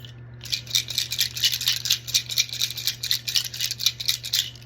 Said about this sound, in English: I'm gonna be rattling